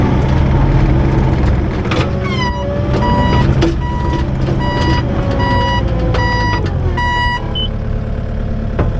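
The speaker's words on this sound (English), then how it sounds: "A heck of a backup alarm." A tracked machine with about 2,093 hours on it and fairly new tracks sounds a loud backup alarm: a steady run of evenly spaced, piercing beeps over a constant heavy engine rumble.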